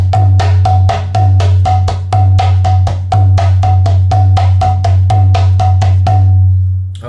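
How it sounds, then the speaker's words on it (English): A mridanga drum plays a fast half variation in a steady repeating pattern, with sharp ringing strokes over a deep sustained bass tone, loud and close, with no voices. "you can play a half variation, which is Ti, dha, dhei dha."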